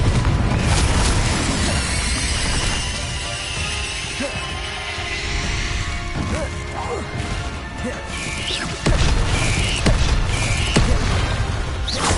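Confringo fire spell bursting in the video game Hogwarts Legacy, a loud crashing boom over dense rumbling game sound, with a second heavy impact near the end.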